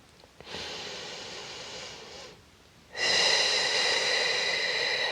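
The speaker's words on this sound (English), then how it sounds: "Inhale through the nose. And exhale through the mouth." Slow controlled Pilates breathing: a soft nasal inhale followed after a pause by a louder, breathy exhale through the mouth, close and alone without talk.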